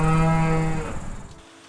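A dairy cow on a farm moos once, a long low drawn-out call that fades away after about a second, close and clear with no talk.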